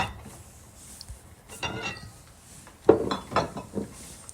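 A utensil stirs olive oil around a hot cooking pot for Jamaican brown stew chicken, making a few scattered clinks and scrapes that bunch into a busier flurry near the end, close and clear.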